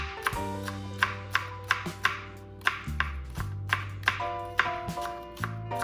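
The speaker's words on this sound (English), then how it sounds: "I'm just going to cut up 1 green onion. Absolute goodness. And cut this up into fine pieces like this." A knife chops a green onion into fine pieces on a cutting board for guacamole, with about fourteen crisp, evenly spaced strokes close by over soft background music.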